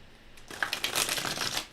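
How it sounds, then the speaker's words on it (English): A deck of cards being shuffled close up, a soft riffling flutter that builds to a dense papery burst, then trails off, with no talk. "Let's see how these guys shuffle."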